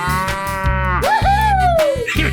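A cow in a 3D animal video game lets out a loud, close, drawn-out moo that rises and then falls, set over a pulsing game soundtrack.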